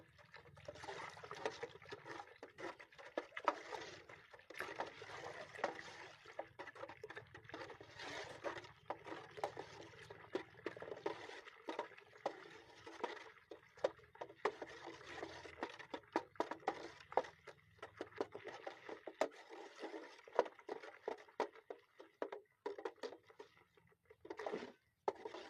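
Two bio-fungicides, Agri Protek and Agri 82, are stirred together in liquid, giving a steady sloshing and trickling with irregular clinks and splashes that fades near the end.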